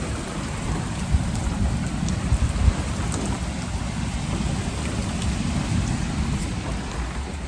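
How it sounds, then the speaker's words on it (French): Thunderstorm with steady heavy rain pouring on surfaces outdoors, a dense continuous wash of rain with low rumbles of thunder rolling underneath and a few brief stronger rumbles early on. "L'orage."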